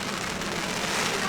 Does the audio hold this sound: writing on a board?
no